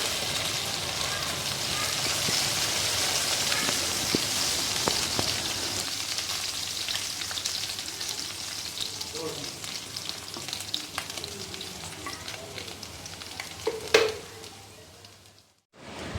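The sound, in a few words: garlic, ginger and curry leaves frying in oil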